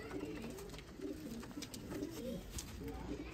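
Sialkoti breeder-pair pigeons cooing close by in a steady run of soft, repeated throaty coos with no talk over them.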